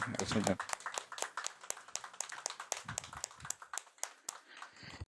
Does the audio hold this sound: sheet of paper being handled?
no